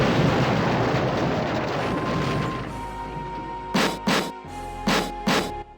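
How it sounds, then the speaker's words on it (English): A loud rumbling video game explosion from behind a door fades into a thin high ringing tone, followed by four short, sharp bursts of noise. "you hear and feel an explosion which seems to have come from behind the door."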